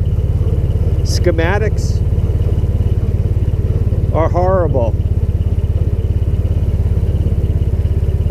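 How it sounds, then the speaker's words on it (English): Engine of a Taylor Dunn B6-10 burden carrier idles steadily and loudly throughout with a constant low throb, while someone talks briefly over it. "And I did manage to get the engine running"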